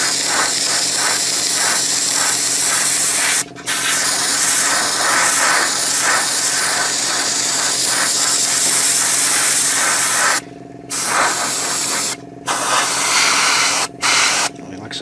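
An airbrush sprays green paint onto a 1/35 scale Takom British Chieftain Mk 10 model tank, giving a loud, steady hiss that runs nearly throughout, broken by a few brief pauses near the end.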